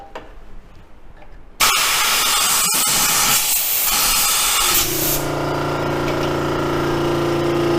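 Compressed air from an air compressor blasts loudly into a freshly cored hole, starting abruptly after a quiet moment as a harsh continuous hiss, then settling into a steadier rushing blow with a low droning hum underneath.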